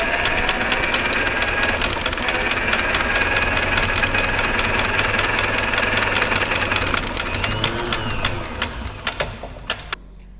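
A 1960s Caterpillar pony engine is cranked over while being fogged with oil. It gives a loud, rapid mechanical chugging and rattling, with steady rhythmic knocks that run for several seconds before slowing and dying away into a few separate clunks.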